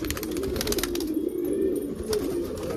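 Pigeons cooing in a loft, with a low, rolling coo repeating steadily at close range.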